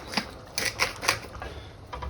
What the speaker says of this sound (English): Ground pepper.